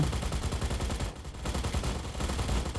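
Robot mech gunfire in the mobile video game Mech Arena, rapid, steady bursts of shots with a brief lull in the middle, loud and continuous.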